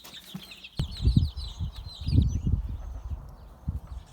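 Young chicks, soon to join the other chicks, make soft, repeated clucking and peeping calls outdoors, with several low, close bursts scattered through the clip and faint high chirping behind them.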